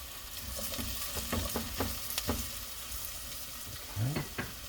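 Onions frying in a pot for Italian wedding soup, a soft steady sizzle with occasional quiet clinks and scrapes of stirring, fairly faint and close.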